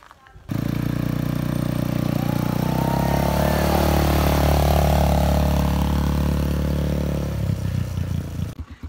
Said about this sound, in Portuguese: desbravando com a minha motocicleta, com o meu quadriciclo